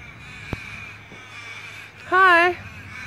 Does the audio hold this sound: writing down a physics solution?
no